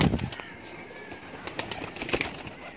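A Kasuri pigeon coos softly, with a few low throaty calls and a brief flutter near the start, nearby and faint, over quiet background noise and no talking.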